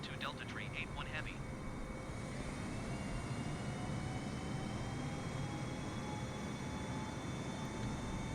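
An airliner taxis at Eagle County Airport in Microsoft Flight Simulator 2020, giving a steady, even jet engine drone with a faint high whine. A few brief chirps sound near the start.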